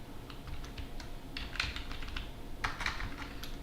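Soft, quiet clicks of typing on a computer keyboard, irregular key taps close by over a low steady room hum, with no voices.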